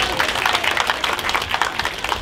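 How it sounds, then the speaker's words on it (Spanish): A crowd claps for a dancer at a street perreo dance duel, dense steady applause with scattered voices mixed in throughout. "aplausito para ella."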